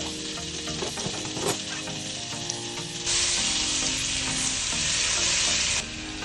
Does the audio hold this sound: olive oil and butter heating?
yes